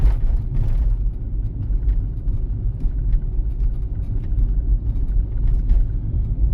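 A car drives at about 40 km/h along a city driving exam route in Zhytomyr, heard from inside as a steady low engine and road rumble with faint intermittent clicks and no talk.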